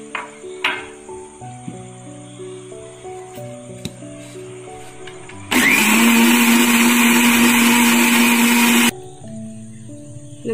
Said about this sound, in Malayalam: ഇനി വീണ്ടും ഇത് നമുക്ക് നന്നായിട്ടൊന്ന് ബീറ്റ് ചെയ്തെടുക്കാം.